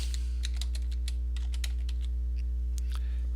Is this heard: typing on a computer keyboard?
yes